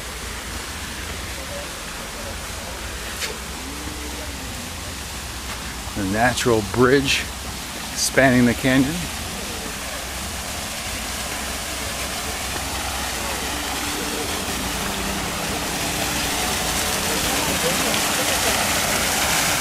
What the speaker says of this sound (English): here we are, the river and a little of the waterfall.